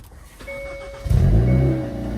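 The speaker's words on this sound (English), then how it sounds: "Time to hear what this exhaust is about." A car starts up with its exhaust valve open, a sharp crank followed by a loud, deep burbling idle that settles into a steady rumble.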